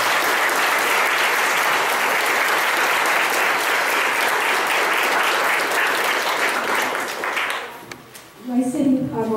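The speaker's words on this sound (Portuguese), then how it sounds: "Uma salva de palmas para a Eucaristia." A community applauds at a First Communion Mass, a full, sustained burst of clapping that fades out near the end as a voice starts speaking.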